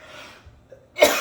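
A single sharp cough bursts out near the end after a few faint breaths, close and fairly loud in a quiet room.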